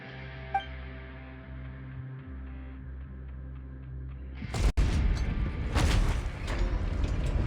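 A sluice gate mechanism in the game Genshin Impact: steady ticking machinery, then a heavy clunk and a loud rushing, rumbling surge as the gate opens.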